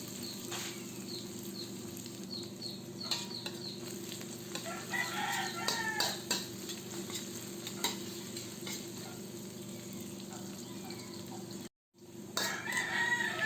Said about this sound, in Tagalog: Gisayin lang natin or lutuin natin ang sibuyas ng 2 minuto or hanggang sa maging malambot na